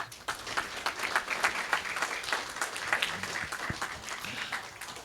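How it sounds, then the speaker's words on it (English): Steady applause from a sizable audience at a National Honor Society induction ceremony, a fairly even patter of many hands clapping at moderate distance. "Give yourself another round of applause."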